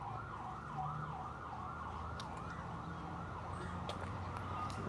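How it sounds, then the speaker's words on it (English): An ambulance siren wails in repeated rising and falling sweeps somewhat in the distance during a park walk near schools, over a low traffic rumble, with a few faint clicks and knocks nearby. "That's the ambulance."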